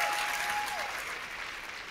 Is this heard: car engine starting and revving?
no